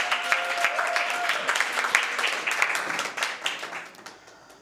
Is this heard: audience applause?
yes